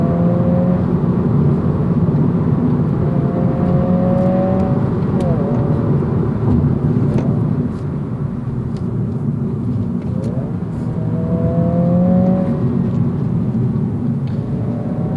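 A 2022 Honda Civic Si engine hums softly and steadily while driving, a smooth low drone with road rumble, accompanied by speech throughout.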